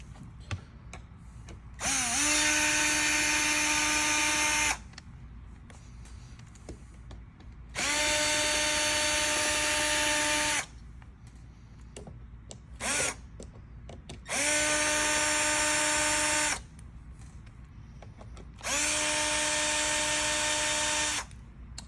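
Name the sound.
power drill removing perimeter screws from REL T/7 amp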